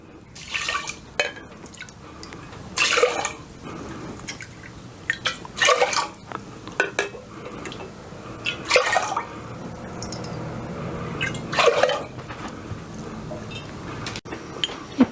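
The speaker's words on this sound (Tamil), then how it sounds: "இப்போ எதில் ரைஸ் எடுத்தோமோ அதுலேயே 5 கப் தண்ணி ஊற்றிக்கலாம்." Water poured into a pressure cooker holding washed rice and lentils, several short splashing bursts with trickles and drips between them, close and fairly quiet, with light clinks of a metal vessel.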